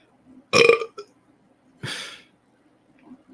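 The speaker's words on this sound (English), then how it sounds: "I cannot stop burping." A person lets out two distinct burps close to the mic during a relaxed art stream, the first loud and abrupt, the second softer and breathier, with quiet pauses around them.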